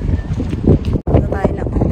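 Strong outdoor wind gusting over a handheld microphone while walking from a bus stop in Canada, a rough roaring rumble with buffeting bursts that briefly drops out, loud and close.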